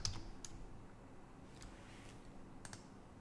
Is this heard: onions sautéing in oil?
no